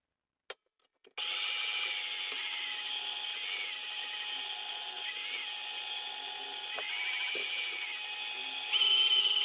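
Electric machine shredding cheese for a stuffed pizza, a steady whirring motor grind starting after a few clicks and running continuously with slight strain variations.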